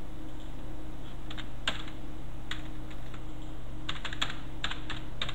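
Typing on a computer keyboard during a practical computer exam: scattered, fairly quiet key clicks in short bursts and single taps over a steady low hum, with no talking.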